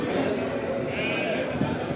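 Sheep bleat amid a busy, noisy crowd at the Kırıkhan livestock market in Hatay, Turkey, where goats are also sold, with people talking throughout in a bustling market atmosphere.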